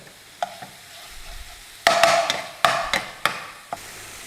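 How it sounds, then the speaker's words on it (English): A spoon scrapes and clatters in a pan as garlic and ginger fry, several sharp knocks over a soft, steady sizzle, close and fairly loud with no talking. "let's give it a stir around. Cook out the rawness of this garlic and ginger."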